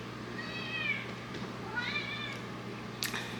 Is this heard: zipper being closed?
no